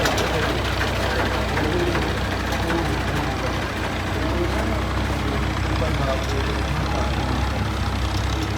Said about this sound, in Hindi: और हमारा ट्रैक्टर जो है वो जाना शुरू हो गया।